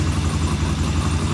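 A warmed-up 1974 Norton motorcycle engine idles with the choke off, a loud, steady, close rumble that runs alone throughout.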